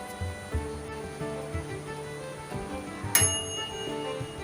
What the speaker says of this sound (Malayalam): ഇതാണ് അതിന്റെ അലാറത്തിന്റെ ട്യൂണ്.